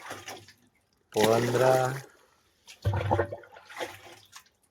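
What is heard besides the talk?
water poured from a can into a sprayer tank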